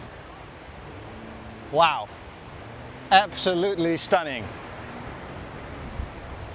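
Waves wash steadily at the main beach of Koh Samet, Thailand, at low tide. The surf is a continuous, moderate rush heard under a person speaking.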